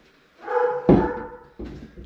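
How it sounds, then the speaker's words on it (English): A dog barks from nearby during home renovation work, giving a few sharp, loud barks with short whiny yips between them, heard clearly on their own. "So I got my dog down there barking up a storm because she doesn't like me nailing"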